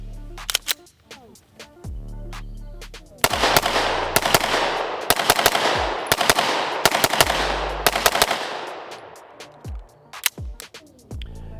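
A Staccato C pistol with a ported barrel and a red-dot optic fires repeatedly in loud, sharp shots. Some come as quick single cracks and others as rapid strings, with brief pauses between groups.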